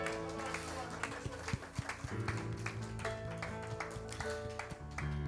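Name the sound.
church congregation clapping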